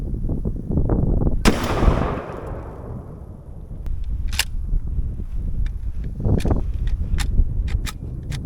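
A shotgun fires a single turkey load at a target, one loud close blast around the 1.5-second mark with a long decaying tail, followed by handling clicks, clatter and low outdoor rumble.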